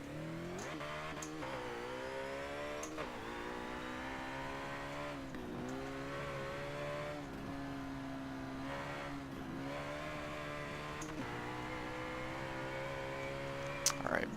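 Race car engine in Forza Motorsport 7, revving loud and continuous as it launches off the line and climbs through the gears, with short dips at shifts and a voice commentating over it.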